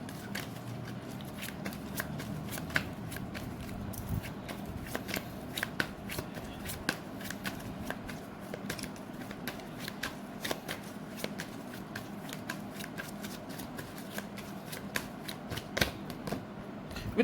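Tarot cards are shuffled continuously at close range, with a steady quiet riffling and frequent soft snaps, and no talking.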